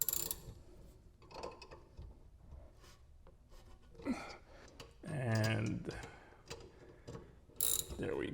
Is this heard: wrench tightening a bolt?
yes